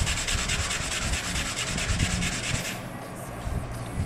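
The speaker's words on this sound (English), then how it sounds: "I can just use my sandpaper and just sand it down slightly." Sandpaper rubs back and forth on a plastic Gundam model kit part, giving a close, steady scratchy scraping with a quick repeating stroke rhythm that eases slightly near the end.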